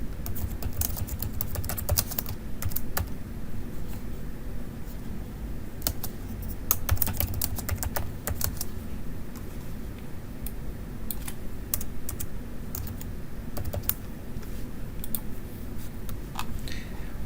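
Steady computer keyboard typing runs throughout, a continuous patter of close clicks over a low background hum while a name is entered during engineering drawing work.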